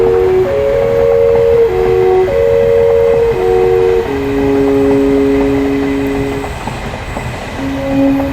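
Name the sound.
train riding on rails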